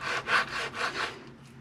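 Knife drawn through an Angus London broil with the grain, cutting jerky strips in a few quick rasping strokes up close, fading out at the end with no speech.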